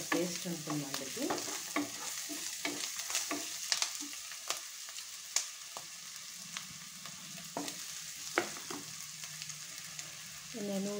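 Ginger garlic paste frying in a pan for a fish curry, a soft steady sizzle broken by repeated sharp scrapes and clatters of stirring, with no talking.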